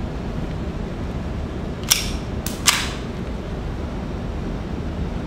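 Hi-Point C9 pistol fired after being frozen to -100 degrees: two sharp, loud gunshots about three-quarters of a second apart, each with a brief ringing tail, over steady outdoor background noise.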